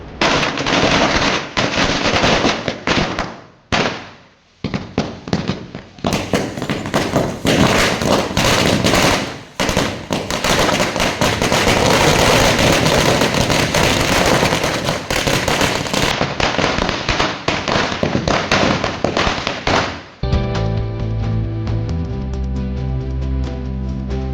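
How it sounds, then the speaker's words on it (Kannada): Firecrackers set off to celebrate a candidate elected unopposed as village panchayat president in Bannikuppe burst in a long, loud, dense chain of rapid cracks and bangs, followed near the end by a steadier tonal sound. "ಪಕ್ಷದ ಮುಖಂಡರು, ಸ್ನೇಹಿತರು ಪಟಾಕಿ ಸಿಡಿಸಿ ಸಿಹಿ ಹಂಚಿದರು"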